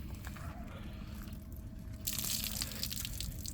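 Water from a hose rinses a very dirty car, a steady low hiss that bursts into a louder, brighter spray partway through, close by and with no speech over it.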